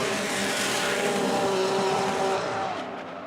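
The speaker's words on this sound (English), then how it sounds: "the whizzing of that 12-cylinder machine" A 12-cylinder drift car at a Formula Drift Pro knockout qualifying round, its engine whizzing loud and sustained through an outside zone with faint tire noise, then fading slightly at the end; no talking.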